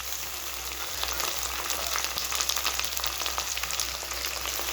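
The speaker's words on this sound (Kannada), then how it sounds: "ಟೊಮೊಟೊ, ಆನಿಯನ್ ಎಲ್ಲ ಸ್ವಲ್ಪ ಫ್ರೈ ಆಗಲಿ, ಹಾಗೆ ಕಲಿಸ್ತಾ ಇದ್ದೀನಿ." Tomato, onion and chillies frying in a pan for South Indian lemon rice, with a steady bright sizzle and occasional soft stirring scrapes, close and continuous with no voices.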